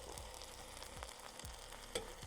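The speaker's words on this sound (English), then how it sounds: "all we're doing is just trying to get a decent sear all around" Pork tenderloin searing in a Dutch oven, giving a steady broad sizzle with a few brief scraping or shifting sounds and one sharper clink near the end; no voices.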